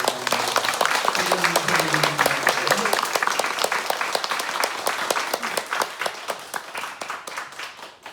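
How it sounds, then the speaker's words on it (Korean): Warm applause breaks out during a church founding thanksgiving service, starting full over a brief voice and then thinning into scattered individual claps as it fades. "박수로"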